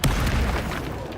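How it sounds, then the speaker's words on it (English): Explosion in the video game Hogwarts Legacy, a sudden loud, deep boom that bursts out at once and then fades into a rumbling decay over about a second. "Explosion!"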